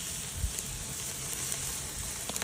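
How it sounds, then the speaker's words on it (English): Chicken sizzling over hot charcoal on a grill, a steady faint hiss and crackle with a few soft pops, close by and without talk. "I'm going to go ahead and char them up over the hot coals to get the nice charcoal color on them."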